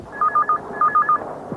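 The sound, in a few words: telephone being dialed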